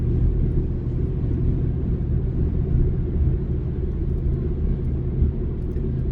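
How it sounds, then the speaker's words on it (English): Heavy road traffic on a Saturday, a continuous low rumble of passing vehicles that stays loud and steady, with no talking. "I don't know why there's so much traffic today"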